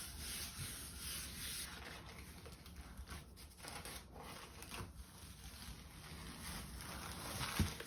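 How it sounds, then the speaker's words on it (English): Tissue paper being rubbed on a gel printing plate to lift a print, a steady soft brushing friction that continues throughout, quiet and close with a faint background hiss. "Give it a little rub, some encouragement to come off the plate."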